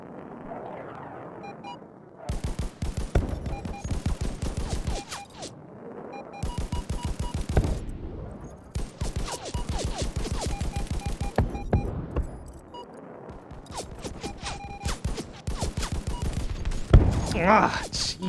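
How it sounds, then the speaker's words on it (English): Rapid bursts of automatic weapon fire in the shooter game Afterburn, in several dense volleys separated by short pauses, with someone talking over the shooting. "When they dive right in front of my actively firing weapon."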